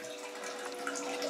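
Water drips and trickles from the back of a Bio Bidet BB 1700 bidet seat, a steady faint, close splashing with no talk over it.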